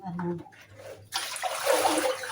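Tap water gushes onto spinach (spleen amaranth) being washed beside a filter, a sudden steady close splashing rush that starts after someone speaks briefly.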